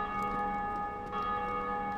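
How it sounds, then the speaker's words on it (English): Bells ring in the Dark Souls video game, a sustained metallic tolling with layered ringing overtones that hangs steadily throughout, fairly loud with no talking. "So you can definitely hear the bells in this place."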